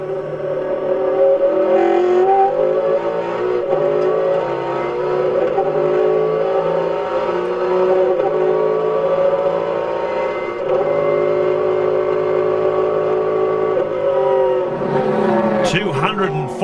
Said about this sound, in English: 240 kilometres an hour, flat strap around the back of Mallala Raceway